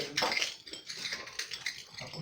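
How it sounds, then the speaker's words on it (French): Broken floor tiles crunch underfoot inside a house: faint, irregular gritty crunches and small clinking scrapes close by, with no talking. "Ce que vous entendez, c'est le carrelage."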